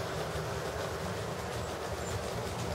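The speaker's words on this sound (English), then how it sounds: "Here's a passenger train, inbound." A model passenger train of RTA coaches led by a Metro F40 locomotive runs inbound on flex track, giving a steady, close rumble with faint clickety-clack from the wheels throughout, and no voices.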